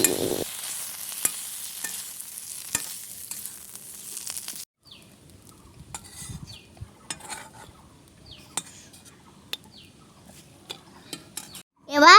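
Fried onion is stirred with boiled potato and tomato sauce in a pan, first over a soft sizzle, then as scattered spoon scrapes and clinks against the pan, ending with a sharp loud burst.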